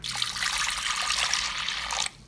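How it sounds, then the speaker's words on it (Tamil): Water poured into a pressure cooker holding toor dal, a steady splashing trickle that runs for about two seconds and then stops abruptly. "பருப்பு வேகிறதுக்கு தேவையான அளவு தண்ணி சேர்த்துக்கிறேன்"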